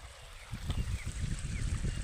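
Irrigation water runs steadily through the channels of a cumin field, a continuous low rushing and gurgling flow that swells after the first half second and stays close and even with no talking.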